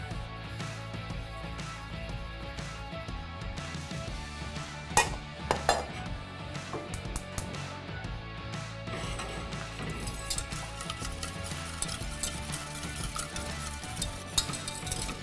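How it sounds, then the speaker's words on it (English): Whisk scraping and clinking steadily against a pan of cream, egg yolks and sugar on medium heat, a continuous rhythmic metallic stirring with a few louder knocks, close and alone without talk. "We're going to whisk it constantly on a medium heat."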